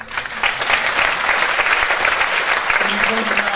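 Audience applause at a Scottish independence debate, thick steady clapping filling the room for several seconds with some voices mixed in.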